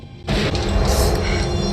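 A single loud gunshot in the 1989 film Heathers, a sharp boom bursting out of a quiet moment and leaving a dense rumbling tail, with no voices over it.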